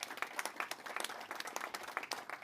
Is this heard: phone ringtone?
no